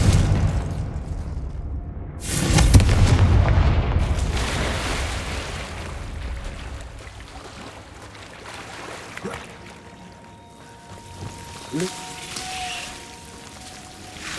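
Confringo blasting spell in Hogwarts Legacy: a heavy booming explosion that swells and rumbles for a couple of seconds, then a long decaying roar with smaller crackles and a bright tonal chime near the end.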